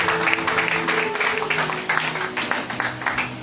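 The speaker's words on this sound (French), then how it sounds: "on acclame pour la parole de Dieu" A church congregation claps in sustained applause during a French-language worship service, a dense, steady patter that stays fairly loud throughout, with music and voices underneath.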